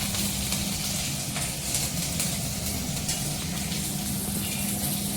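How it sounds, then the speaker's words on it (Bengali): Tempering spices for a South Indian chutney sizzle steadily in hot oil, close and even with light crackling throughout and no talk. "এর বেশি আর বেশি ভাজবো না, এতটাই"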